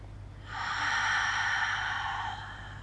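A single long, steady inhale during a Pilates mat session, a soft airy rush that swells in, holds for under two seconds and fades, close and clear over quiet room tone.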